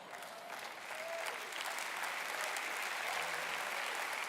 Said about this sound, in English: I love the applause, we just don't have time.